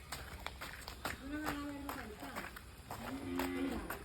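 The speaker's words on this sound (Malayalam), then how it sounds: "പശുവിനെ കാണണോ?" A cow on a family farm lets out two drawn-out moos, one in the middle and another near the end, fairly close and moderately loud, with scattered background noises and rustling around them.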